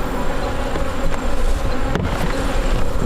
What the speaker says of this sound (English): Listen to that entire hive. They're swarming us. Yeah, they're not. These are some unhappy bees.